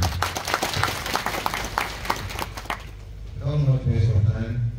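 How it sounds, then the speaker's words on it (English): A round of applause after a presentation, with dense clapping for about three seconds that then gives way to a voice speaking over lingering room noise. "It's a round of applause."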